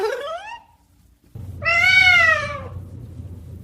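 A cat gives two clear meows, a short one at the start and a louder, longer one after a brief pause, over faint background hum.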